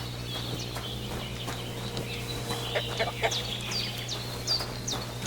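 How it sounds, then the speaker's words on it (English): Chickens cluck and chirp in a farmyard in Kingdom Come: Deliverance II, a series of short, bright calls repeating over a steady low hum, fairly close and moderately loud. "I don't want to hurt her chickens."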